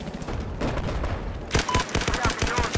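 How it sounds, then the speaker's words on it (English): Gunfire in the shooter game Battlefield 4, a muffled, rumbling stretch of distant shots giving way to a rapid, rhythmic burst of automatic fire, moderately loud, with game ambience underneath. "I'm getting shot at"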